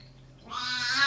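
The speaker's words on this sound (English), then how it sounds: "Sorry, that's our cat Mapir." A pet cat named Mapir, an older male, lets out a single drawn-out meow that rises from quiet and swells loud and close, with a faint low hum beneath.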